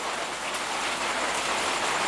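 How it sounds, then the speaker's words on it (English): Rain on a workshop roof after evening thunder, a dense, even patter of drops drumming steadily and fairly close, with no voices. "listen to the rain on the roof"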